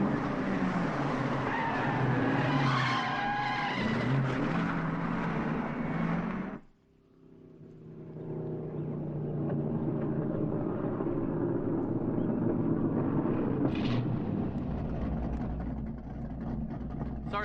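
A car skids loudly for several seconds, then its engine drones on steadily as it drives, with a brief sharper burst near the end.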